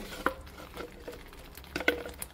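Indian curry ingredients sautéing in a pan in a home kitchen, with scattered spatula scrapes and soft sizzling, two sharper clinks of the utensil against the pan standing out, fairly quiet and close.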